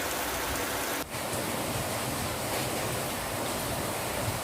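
Heavy rain pours down in a steady, loud, unbroken hiss, dense and close, with a brief dip near the start before the downpour resumes unchanged.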